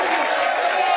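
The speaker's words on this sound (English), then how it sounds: "He's left the crowd chanting." A studio audience on ESPN First Take makes a steady, loud, dense wash of crowd noise for a brief moment, with no single voice standing out.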